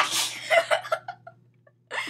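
A single sharp sneeze bursts out indoors during casual talk about corner couches, trailing into a few quieter breathy sounds before voices return.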